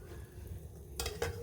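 Faint, steady sizzle of dhoka pieces frying in a pan, followed by two sharp clinks of a utensil against the pan near the end.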